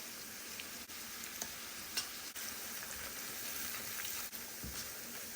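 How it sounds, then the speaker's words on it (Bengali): Masala spices sautéing in hot oil for a rohu fish curry, a continuous soft sizzle and crackle with a few sharp stirring scrapes against the pan, close and fairly quiet. "মশলাটা একটু কষে গেলে আমি মাছগুলো ছেড়ে দিব"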